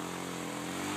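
Motorcycle engine revving as the rider starts off and the wheel skids, a steady, loud buzzing drone held close by without any pause.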